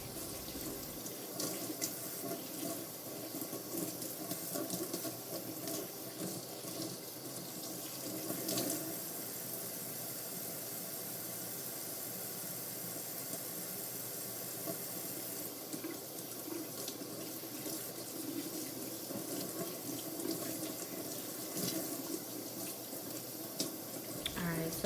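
Tap water rinsing crimson red dye out of a hair weave in a sink, a steady rushing stream with shifting splashes, running continuously throughout, a voice briefly over it.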